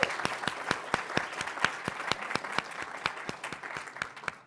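Steady applause from a conference audience, a continuous wash of many hands clapping at moderate distance with some sharper individual claps standing out, no talking over it.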